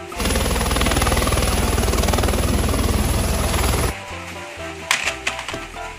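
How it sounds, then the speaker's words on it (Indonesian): A battery-powered toy helicopter gives a loud, steady mechanical whir with a buzzing rattle for about four seconds, then stops, leaving quiet background tones and a few clicks. "Helikopter."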